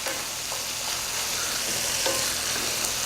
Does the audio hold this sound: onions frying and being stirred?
yes